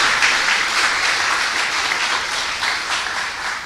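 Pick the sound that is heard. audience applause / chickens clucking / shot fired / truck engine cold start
audience applause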